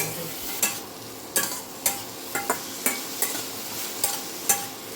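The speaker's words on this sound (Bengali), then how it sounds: "নুন হলুদ দিয়ে একটু নাড়িয়ে নিলাম বন্ধুরা" A spatula stirs salt and turmeric in a frying pan with a little oil, making about ten sharp, irregular scrapes and knocks over a faint, steady sizzle.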